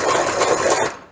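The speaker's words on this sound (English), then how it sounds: "you use your ring grinding tool that looks like this. Essentially you just butt the ring up into the tool, you grind a little off" A hand-held piston ring grinding tool files the end of a piston ring during an LS engine rebuild. It makes one loud, close, continuous rasping scrape for about a second, then stops abruptly.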